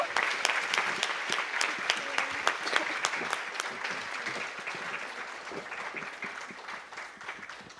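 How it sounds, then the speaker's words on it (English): Audience at a July 4th Funfest ambassador coronation applauds the festival committee, a steady wash of many hands clapping throughout, fairly close and fading slightly toward the end. "You guys can clap for them."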